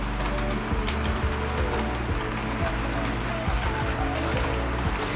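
A DCC model train locomotive running on track as the throttle is raised, giving a steady close whirring and rattling hum with small rhythmic clicks throughout.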